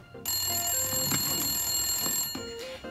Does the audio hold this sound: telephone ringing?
yes